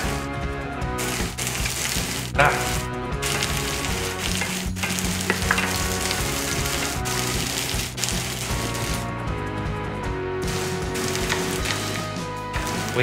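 Onions fry in a pan for curry, giving a loud, steady sizzle that runs throughout with occasional stirring clatter and a constant tonal hum behind it.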